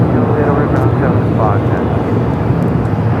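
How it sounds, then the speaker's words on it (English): An airliner takes off at LAX on a flight bound for Newark, its engines a steady, loud roar throughout. Voices talk over the engine noise. "This flight taking off, headed to Newark"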